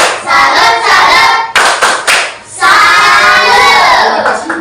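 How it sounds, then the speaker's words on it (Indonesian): A classroom of children claps a rhythmic salute clap, loud close bursts of hands together mixed with excited shouting and chanting from the group. "kita berikan tepuk salut untuk Bas"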